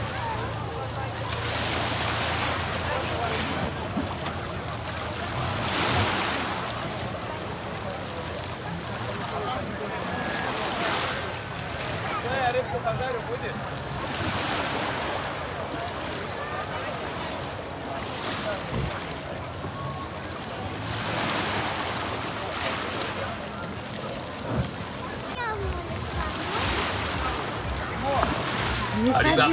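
Sea waves wash onto the shore at Lazarevskoye, surging and receding in broad, rolling swells every few seconds, with gusty wind buffeting the microphone throughout.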